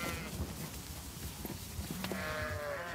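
Young ewes on a Bavarian farm bleat in short calls over a steady background murmur of the flock, with one clearer, drawn-out bleat near the end.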